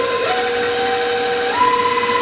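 An electric mixer beats almond butter cake batter right after vanilla has been stirred in, a loud, steady motor whir that shifts up in pitch partway through, with no voices.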